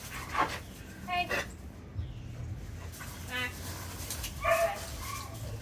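A driven dog in training yips, barks and whimpers in short bursts, several high sharp calls spaced across the moment, with a trainer's voice heard between them.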